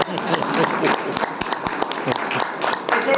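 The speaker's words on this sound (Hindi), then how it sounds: "ताली बजाना चाहते हो तो बजा सकते हो" A crowd applauds at an Arya Samaj religious gathering in Ambala, with steady, dense clapping from many hands that carries on at an even level for several seconds.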